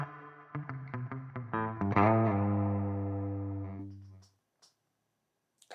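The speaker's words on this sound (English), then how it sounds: "go to a room reverb." A guitar picks a quick run of notes, then holds a chord that rings through a roomy reverb from a room reverb setting before cutting off, leaving faint scattered noises.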